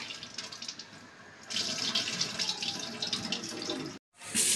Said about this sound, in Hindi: ये दाल धो लेते हैं, फिर इसको डालेंगे।